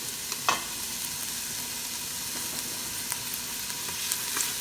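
Onions and garlic sautéing in a pan for beef bulalo, a continuous gentle hiss of frying with occasional faint clinks and a brief utensil knock near the start, close by and with no talking.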